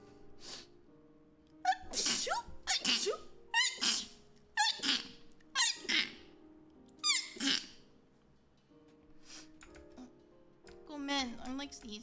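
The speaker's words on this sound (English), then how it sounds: "I have this like really stupid tendency to like sneeze repeatedly non-stop" A person sneezes again and again, about eight sharp sneezes in a row with short gaps and breathing between them, and a longer breathy sound at the end.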